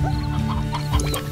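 Clucking chickens in the video game Slime Rancher, with a steady run of short clucks over a busy game soundtrack and effects, close and fairly loud.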